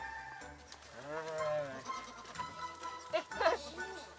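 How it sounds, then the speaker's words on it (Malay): Goats in a Mongolian nomad herd bleat nearby, a long wavering bleat followed by shorter cries, with faint clattering and a voice or two in the background. "Ada kambing seekor kat luar."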